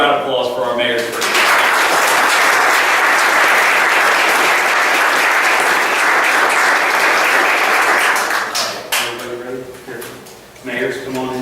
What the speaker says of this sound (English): how about a round of applause for our mayors